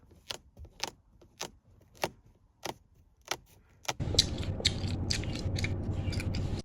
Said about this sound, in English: rattling noise from right up here along the sunroof